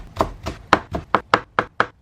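A knife chops garlic chives on a cutting board in steady, crisp strokes, about eight sharp thuds in two seconds, close and loud with no talking.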